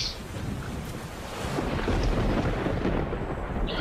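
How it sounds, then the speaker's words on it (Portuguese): Heavy rain in the Minecraft video game pours as a dense, steady roar with a deep rumble of thunder underneath, continuous and fairly loud throughout with no talking. "Caraca, tá chovendo muito."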